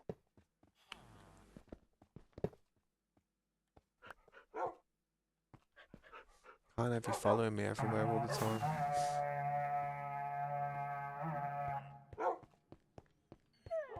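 Dogs in Minecraft Bedrock Edition yip and bark in a loud stretch after scattered quieter sounds, with someone talking in between.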